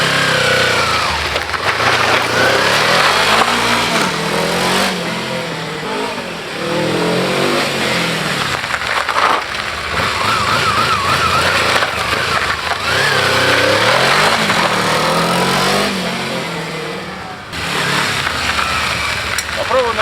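A Kawasaki KLE250 dual-sport motorcycle runs while warming up, its engine loud and close, holding a steady note with repeated revs rising and falling throughout.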